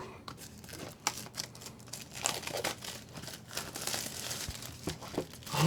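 A plastic package holding a Comica BooMax wireless mic is cut open, giving close crinkling and crackling of plastic with scattered snips and rustles that run continuously for several seconds.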